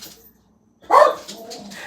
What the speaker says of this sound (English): we got Bailey barking, so there's a dog up the street that Bailey doesn't like